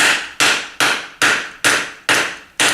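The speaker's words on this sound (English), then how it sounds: "so this will sit here and I'll keep hammering." Sharp metal-on-metal hammer blows drive a bearing race into a lathe headstock, seven evenly spaced loud strikes with ringing decays, each about half a second apart.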